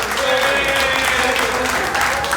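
An audience in Brampton applauds four city councillors, a short burst of steady clapping with a faint murmur of voices through it.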